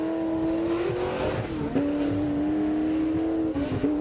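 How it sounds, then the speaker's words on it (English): A race car engine drones steadily on track and holds a loud, near, continuous note with small pitch shifts and shifts of gear over several seconds. "something 8-cylinder coming down the road, here we go"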